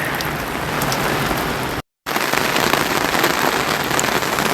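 Heavy rainstorm pouring onto a surface, a dense, steady hiss of rain with a brief dropout to silence partway through before the downpour resumes just as loud.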